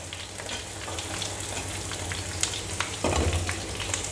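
Chunks of potato and carrot fry in a hot pan with a steady, close sizzling hiss, broken by a few light stirring clicks near the end; no one speaks.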